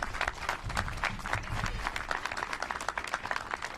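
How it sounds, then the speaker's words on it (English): Applause at a bill-signing event breaks out on cue and runs steadily, a dense patter of many hands clapping at moderate distance, with faint voices mixed into the crowd noise. "You can clap for that too"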